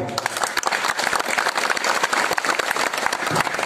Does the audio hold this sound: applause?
yes